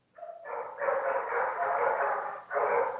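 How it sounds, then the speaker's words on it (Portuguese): A pack of neighbourhood dogs barks together in a loud, continuous, overlapping clamour, with a short pause before one more burst near the end. "Aqui agora está um monte de cachorro latindo aí, vocês estão ouvindo, né?"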